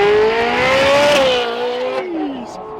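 A purple and white Ferrari 812 supercar's exhaust, heard under the Utah sun: a loud, close wail that climbs in pitch, then drops away as the revs fall over a few seconds.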